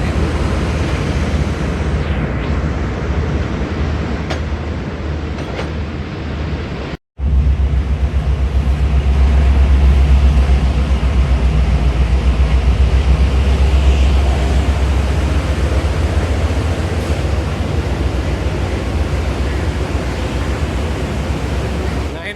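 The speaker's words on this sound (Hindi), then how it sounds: "अल्लामा इकबाल एक्सप्रेस एंटर हो रही है प्लेटफॉर्म नंबर 8 पर" A long, loud, steady roar of a train pulling into platform number 8 at a railway station, a broad rushing rumble that holds for about twenty seconds after a brief cut, with no clear talk over it.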